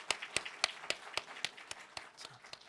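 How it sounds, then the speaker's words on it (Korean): A church congregation clapping at a Christmas thanksgiving service, a string of crisp, fairly quiet claps in a steady rhythm that gradually softens and thins out. "우리 하나님께 박수로 영광 올려드리겠습니다."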